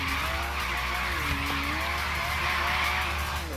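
An Aston Martin V12 Zagato drifts in the Forza Horizon 3 racing game, a continuous tire squeal and skid over a droning engine, loud and sustained throughout.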